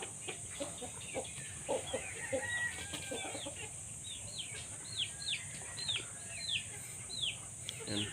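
Backyard chickens cluck and peep in short, repeated calls while feeding, with a steady low farmyard hum underneath and no talking.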